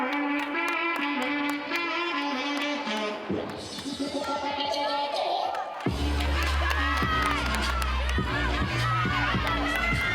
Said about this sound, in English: Teammates cheering for her as she starts her first pass